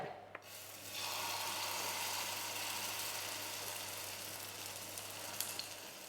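Cabbage pancake batter poured onto a hot oiled griddle, a sudden loud sizzle that holds steady and slowly eases, with a few small scraping ticks and no speech.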